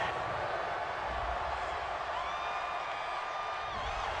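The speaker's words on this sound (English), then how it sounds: "this crowd does not like that call. Understandable reaction from them." A stadium crowd at a World Gridiron League football game lets out a steady, loud roar of disapproval after a roughing-the-passer penalty, a dense wall of voices filling the whole stretch.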